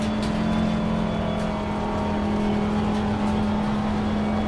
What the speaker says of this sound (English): the sound of the car sounds amazing